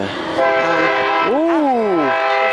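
A train passes along the track beside a cemetery and sounds its horn: a loud, close, sustained multi-tone blast that bends downward in pitch as it goes by, over rolling rail rumble.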